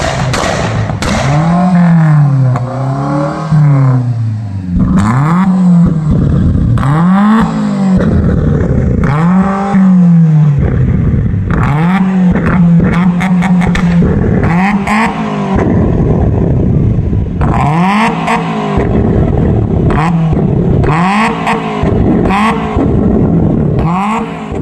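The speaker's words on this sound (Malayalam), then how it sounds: "ആക്സിലറേറ്റർ കൊടുക്കുന്ന സമയത്ത് കാതടപ്പിക്കുന്ന ശബ്ദത്തോടെയാണ് പുകക്കുഴലിലൂടെ തീ തുപ്പുന്നത്" A modified car revs hard again and again, its exhaust spitting fire with loud bangs and pops. The bursts come close and loud in rising and falling surges over about twenty-five seconds, with no talk.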